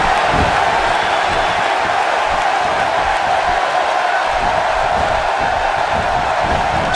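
Arena crowd roaring during a WWE SmackDown 2K18 Survivor Series match, a dense, sustained wash of cheering that stays loud and even across the whole stretch.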